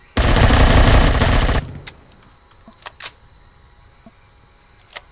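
Video-game gunfire in Empyrion: a loud, sustained automatic burst of about a second and a half, followed by a few scattered sharp shots and clicks in a quieter background.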